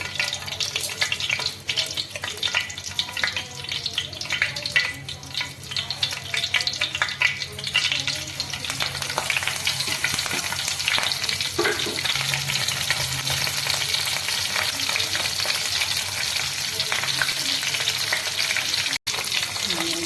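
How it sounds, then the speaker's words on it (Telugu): Tempering seeds crackling and sizzling in hot oil in a kadai, a dense, loud, continuous spitting crackle heard close by without any talk. "మనం నూనె వేడెక్కిన తర్వాత తాలింపు గింజలన్నీ వేసుకోవాలి."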